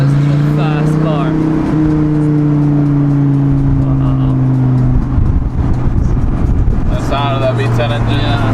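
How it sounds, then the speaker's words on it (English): A V10 sports car engine revving nearby, loud sustained droning tones that rise and fall with throttle, shifting pitch as it accelerates, with people talking over it. "Sound of that V10 engine."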